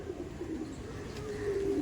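Andhra Kalshira pigeons in a loft give soft, low, rolling coos, close and steady over a faint background hum.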